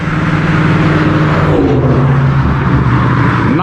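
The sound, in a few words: Chevrolet Camaro speeding over a bridge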